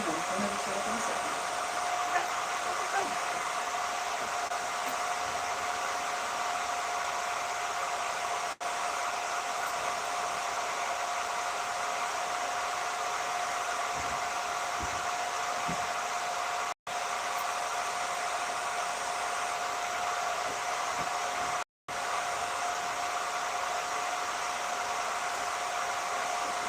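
A blow dryer runs continuously in a workshop with a forge, a loud steady hissing whoosh with only brief cutouts.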